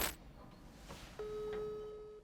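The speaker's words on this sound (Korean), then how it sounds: "방으로 돌아온 콜레트는 나오미에게 전화를 걸어봅니다" A telephone dialed in a film scene gives a few faint soft taps followed by a steady electronic tone, quiet and isolated in a hushed room with no talk.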